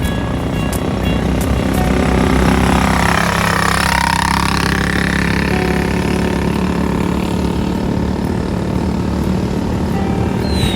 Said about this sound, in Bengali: তো প্রথমবার এরকম কোয়াড বাইক চালাচ্ছিলাম, অনেক মজা লাগছিল।